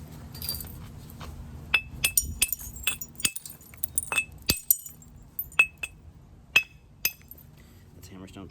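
A hammerstone strikes dacite stone in flintknapping percussion, giving a series of sharp, close, glassy clicks and taps, irregularly spaced and some in quick pairs, over a low background hum.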